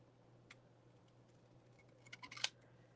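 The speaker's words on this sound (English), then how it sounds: "I'm going to use these long bladed scissors" A few quick, faint snips of long-bladed scissors cutting paper, clustered near the end, in an otherwise very quiet room.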